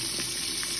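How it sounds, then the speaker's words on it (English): Water pours steadily into a pot of crawfish, a continuous splashing rush heard up close with no talk over it. "you're gonna add a little bit of water in here"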